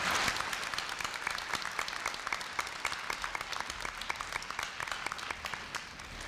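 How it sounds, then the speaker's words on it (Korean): An audience at a 2015 university entrance ceremony welcomes a guest speaker with applause, many hands clapping at a moderate, even level in a large hall, individual claps audible within the crowd sound. "큰 박수로 맞이해 주시기 바랍니다."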